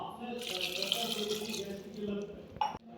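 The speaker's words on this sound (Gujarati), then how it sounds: "હવે આપણે શીંગોને બાફવા માટે 2 ગ્લાસ જેટલું પાણી રેડીશું." Water pours steadily into a pressure cooker to boil drumsticks for curry, a continuous close splashing stream that ends with a brief clatter.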